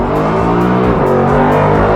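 A 2018 Mustang GT Premium, a nearly 500-horsepower car, accelerates hard on a race track with a loud, continuous engine roar whose pitch rises and shifts through a gear change.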